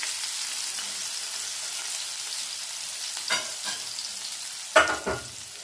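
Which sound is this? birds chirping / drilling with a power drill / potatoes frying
potatoes frying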